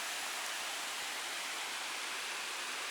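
Waterfalls in Cheonbuldong Valley on Seoraksan pour in a steady, even broadband roar, a dense unbroken rush of falling water with no voices or other sounds.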